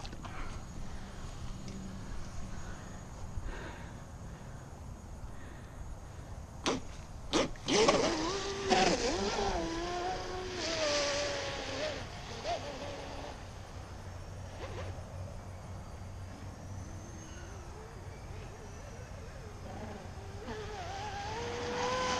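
A Pro Boat UL-19 RC hydroplane runs on water, its electric motor rising into a sharp, fast, whining buzz with rapid pitch sweeps as it speeds past, then fading to a distant drone.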